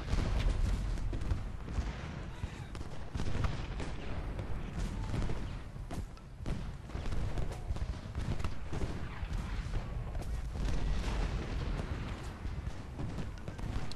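Distant massed musket fire and cannon booms in Ultimate General: Gettysburg roll on as a continuous, rumbling battle din, a flank under sustained fire without clear individual shots.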